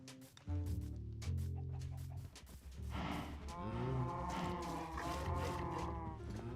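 Cows lowing in Minecraft, several long, drawn-out game moos in a row, fairly loud and close with no talk.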